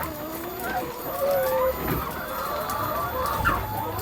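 Young laying hen pullets about 14 weeks old, not yet laying, cluck and chatter close by in a poultry house, several overlapping calls with one sustained note midway.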